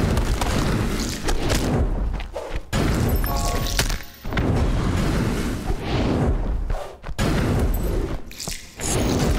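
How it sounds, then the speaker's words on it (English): Triple fireball attacks in Valkyrie Champions produce heavy, loud booming blasts and crashes that repeat across the stretch with short dips between them. "I am shooting triple fireball right now"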